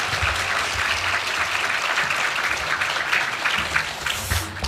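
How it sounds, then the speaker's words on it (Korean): A church congregation applauds to welcome a missionary at a Sunday service, a dense steady clapping from many hands in a large room, lasting throughout and fading slightly at the end. "우리 선교사님은 또 환영의 박수로 함께 모시겠습니다"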